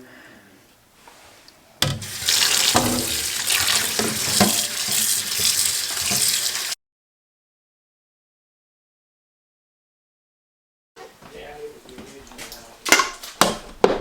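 Starchy potatoes rinsed under a running kitchen tap, a loud steady rush of water splashing into a bowl for several seconds, then silence before clattering and handling noises return.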